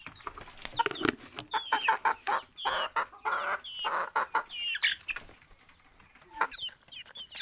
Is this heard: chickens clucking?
yes